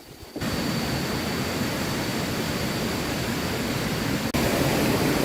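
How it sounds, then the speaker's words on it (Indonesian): Curug Leuwi Mangrod waterfall roars steadily after a night of rain, a loud, dense, continuous rush of water with no voices. "Oh, airnya cukup deras guys."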